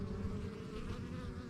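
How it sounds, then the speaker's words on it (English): Bees buzz continuously as they fly in toward a hive, a dense steady drone that fills the short moment close to the listener. "Let's get another batch of bees coming in."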